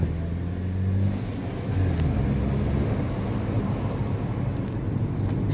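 A Nissan NP300 pickup truck drives and accelerates, its mid-pitched engine droning steadily and close alongside a constant road rumble, with no talk.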